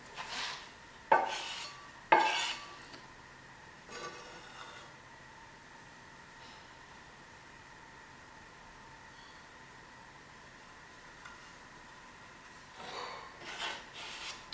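A trowel scrapes a fresh plaster coat on a wall being repaired and levelled: a few short, loud rasping strokes near the start, a quiet stretch, then more scraping toward the end.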